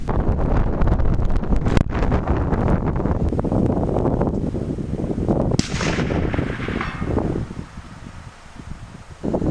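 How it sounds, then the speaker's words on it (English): Strong wind buffets a microphone outdoors at a shooting range, a loud rumbling roar with gusts, broken by a sharp crack near the two-second mark, then easing toward the end. "Got a little bit of wind."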